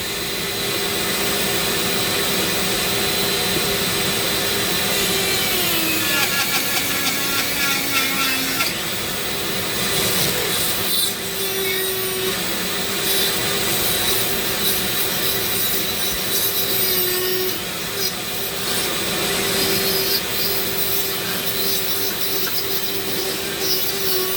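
Dremel rotary tool carving a Medusa figure, a steady high whine running continuously with slight pitch dips as the bit bites into the material, loud and close with no talking.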